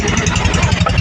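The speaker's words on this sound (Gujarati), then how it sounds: "આ બુલેટ જો ભાઈ, બુલેટ કમેન્ટ કરજો કયા મોડલનું બુલેટ છે" A Bullet motorcycle engine runs close by, a loud, steady low thumping rumble with a rapid pulsing beat.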